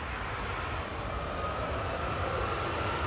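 A Scandinavian Airlines CRJ 900 regional jet arriving from Copenhagen at Manchester Airport gives a steady, loud, broadband engine roar that holds evenly throughout, with no voices.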